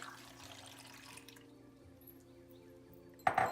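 A cup of water poured into a soup pot with butternut squash, garlic and salt for tomato soup, a short close splashing stream that stops, followed by quiet and a brief clatter.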